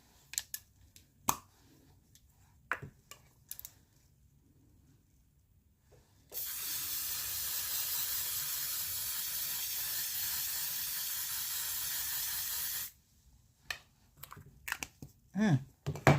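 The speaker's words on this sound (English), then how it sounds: "So I'm going to go ahead and get into L'Oreal's setting spray." A continuous hissing spray bursts out for several seconds, close and steady, surrounded by light handling clicks and rustles before and after.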